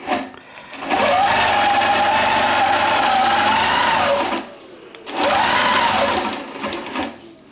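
A longarm quilting machine stitching in the ditch on a dog placemat at its regular stitch length, a loud steady mechanical whir running in two long bursts with a brief pause between.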